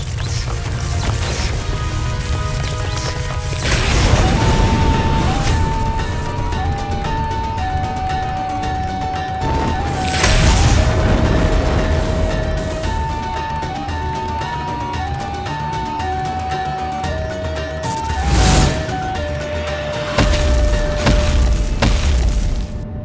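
Heavy crashing blasts erupt repeatedly over dramatic orchestral music in a mythological TV drama, with booming impacts rising and fading several times.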